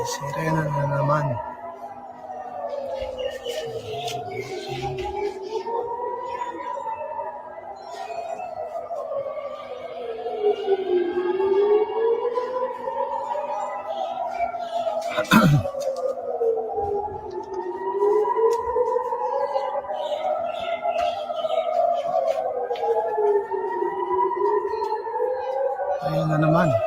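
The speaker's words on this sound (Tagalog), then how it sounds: "May sirena na naman." A wailing siren rises and falls in slow repeated sweeps, with overlapping tones, heard steadily over a low hum and a brief sharp knock midway.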